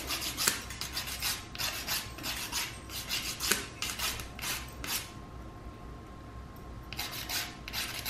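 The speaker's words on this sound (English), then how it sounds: "So I'm just gonna file it into shape." A nail file shapes a repaired toenail in quick, close, quiet rasping strokes, repeated in bursts with a short pause before the filing resumes, and no one speaks.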